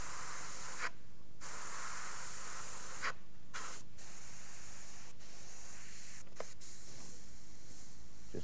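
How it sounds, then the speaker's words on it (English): Steady airbrush hiss spraying paint freehand onto a car hood mural, in several bursts separated by brief pauses, close and fairly quiet. "freehanding the airbrush."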